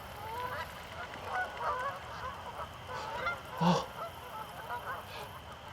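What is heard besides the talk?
geese honking, flock returning in spring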